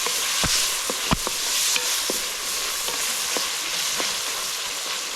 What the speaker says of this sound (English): Let them go and fry a little.